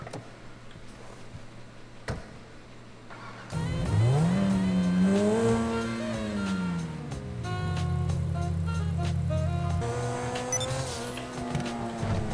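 A car being driven, its engine note rising and falling in pitch as it revs up and down, loud and close, after a quieter opening stretch.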